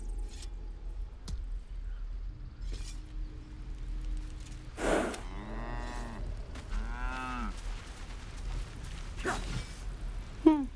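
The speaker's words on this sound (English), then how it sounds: "Moo!" A cow moos in the video game Baldur's Gate 3, two long, drawn-out calls in succession over a steady low ambient game drone, with a faint rustle and a brief snort near the end.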